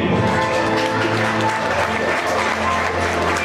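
A festive crowd at a celebration bursts into steady, dense clapping after a toast, sustained and fairly loud throughout with faint background music.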